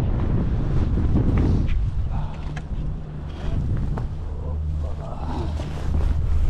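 Strong wind buffets the microphone on a fishing boat on the Bosphorus at Beykoz, a rough constant rumble with a low engine hum underneath and brief voices in the background.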